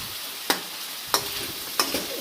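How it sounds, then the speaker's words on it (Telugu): Chopped tomato fries in oil for mutton curry, a soft continuous sizzle broken by three sharp stirring clacks spaced about two-thirds of a second apart. "చూడండి, ఆయిల్లో ఈ విధంగా అవుతుంది, మంచిగా ఉడుకుతుంది"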